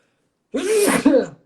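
A single sharp sneeze up close, a quick intake rising into a forceful burst, preceded by silence.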